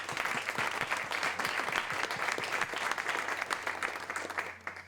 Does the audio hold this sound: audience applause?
yes